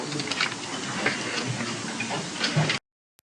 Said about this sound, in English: you can use your tracing wheel to trace that line